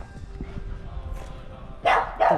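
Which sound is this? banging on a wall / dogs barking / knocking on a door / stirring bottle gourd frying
dogs barking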